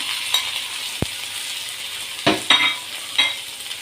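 Small onions (shallots) drop into hot oil with popped mustard seeds, giving a sharp crackle and steady sizzle, punctuated by a few scraping stirs and clinks.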